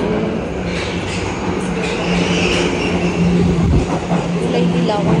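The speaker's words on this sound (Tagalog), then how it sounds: "Yan ang mga tren na kulay dilaw." A yellow Ginza line subway train rumbles and rattles loudly on its tracks close by, with a broad roar, some wheel clatter and a squeal, while people talk.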